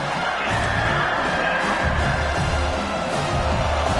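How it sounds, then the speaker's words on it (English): A large football stadium crowd roars continuously during a game, a dense wash of cheering and shouting that stays loud and steady throughout. "And here comes the noise. This crowd is trying to inspire this defense"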